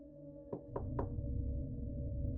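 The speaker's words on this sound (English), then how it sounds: "A soft, deliberate knock on the front door." Three slow, soft knocks on a front door, evenly spaced and fairly close, over a low steady background hum.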